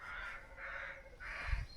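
Crows caw in three harsh, drawn-out calls from a noisy flock congregating overhead, fairly distant above a faint background rumble and a brief low thump near the end.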